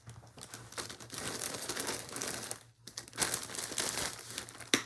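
A plastic bag of stuffing is opened and handled with continuous close crinkling and rustling, loud and dense, briefly pausing midway before more crackly handling resumes.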